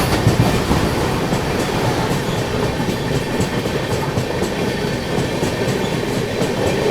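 A passenger express train rolls along past a goods train on the adjacent track, its steady loud rumble and wheel clatter continuous and close throughout.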